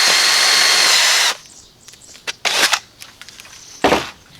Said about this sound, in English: You drill that hole through there